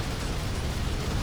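Explosions in the arena shooter Unreal Tournament during an Assault match, a continuous low rumbling roar of blasts and bursts that stays dense and loud throughout, with no talking.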